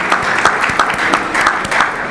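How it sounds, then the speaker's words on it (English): A conference audience applauds, with dense, moderately loud clapping that has a slightly rhythmic pulse and carries on steadily without talk. "I just wanted to have a quick round of applause for Jim Hawk for all he's done."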